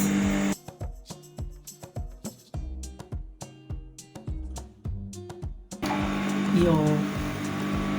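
Sewing machine stitching a shirt dress in bursts of rapid clattering needle strokes with short pauses, close by, followed by a steadier whirring run at the end.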